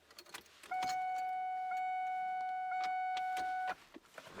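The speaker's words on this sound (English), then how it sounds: "You can hear the fuel pump kick on." Electric fuel pump on a 1994–2004 Ford Mustang kicks on as the key is turned, giving a steady, fairly loud whine that holds for about three seconds, then cuts off, with a few soft clicks and knocks around it.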